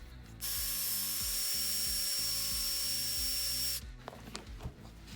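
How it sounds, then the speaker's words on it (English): A high, whining power drill runs continuously for about three seconds with a steady pitch while enlarging a hole on an Arrma RC car part, then cuts off into clattering and handling noises. "I'm gonna take my drill, we're gonna just drill this one out a little bit more"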